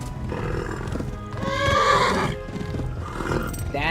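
A horse gives a loud, drawn-out whinny rising and falling over a couple of seconds, close up, with hoof clatter in the medieval setting of the video game Kingdom Come Deliverance.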